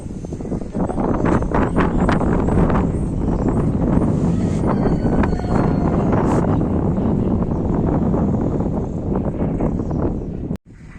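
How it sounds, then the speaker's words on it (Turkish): A loud, steady rush of winter wind blows against the microphone on a balcony, with gusts rising and falling, then cuts out briefly near the end. "Tabii rüzgar da var ama arkadaşlar kış havası."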